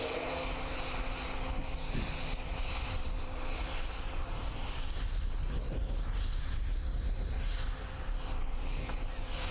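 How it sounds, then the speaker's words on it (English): A Gazelle helicopter's turbine lights up and winds up at an outdoor air display, a loud, continuous engine roar and whine that holds steady throughout with no voices over it. "the Gazelle just lighting up its turbine"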